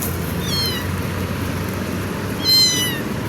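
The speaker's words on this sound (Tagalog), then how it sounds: "Kawawa pusa gutom iyak ng iyak ito" Small, hungry stray kittens give high, thin meows in two brief bursts, the second slightly louder and longer, over a steady outdoor background hum.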